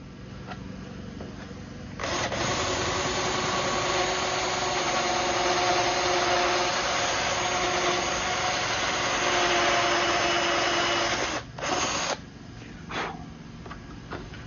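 A power drill boring a pilot hole in the hood of a Ford Shelby GT350: a steady, loud whirring grind that runs for about ten seconds, then stops and gives a couple of short final bursts.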